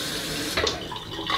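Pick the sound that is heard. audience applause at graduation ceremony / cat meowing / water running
water running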